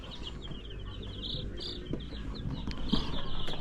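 Pet chickens and chicks kept in a backyard setup peep in a string of short, high chirps near the start, over a constant buzz of crickets and insects with faint scattered clucks.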